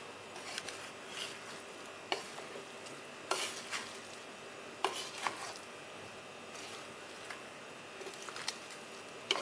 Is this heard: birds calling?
no